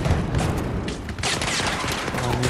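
Dense Battlefield 2042 gunfire rattles in rapid, overlapping bursts with booming impacts, a loud continuous barrage from the game's battlefield, with faint player chatter mixed in.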